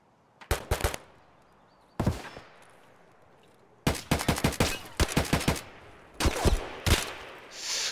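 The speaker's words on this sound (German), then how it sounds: "Ich schieß einfach mal ein bisschen zum Ablenken." Several loud bursts of automatic gunfire ring out in the shooter game Escape from Tarkov, coming as rapid rattling volleys separated by short pauses.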